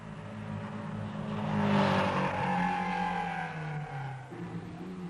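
Rally car at speed in the 1976 Kuwait Rally, a steady, loud engine drone with a rising and falling rev note over a rough broadband roar, close by, with no talk.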